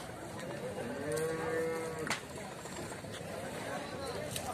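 A buffalo at a buffalo market gives a long, loud, low moo in the middle of steady crowd chatter and market noise, and people talk close by.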